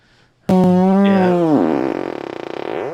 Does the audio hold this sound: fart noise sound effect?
yes